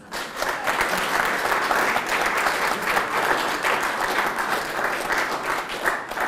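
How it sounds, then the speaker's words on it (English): Wedding guests applaud Mr. and Mrs. Pendlebury in a room: steady, dense clapping that stays loud and even throughout, with a faint murmur of voices underneath. "Ladies and gentlemen, how about a round of applause?"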